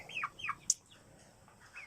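Stags and hens of the Kai Sotto strain bound for Nueva Ecija give a few short clucks and chirps up close, with a brief sharper squawk in between and quiet farmyard ambience.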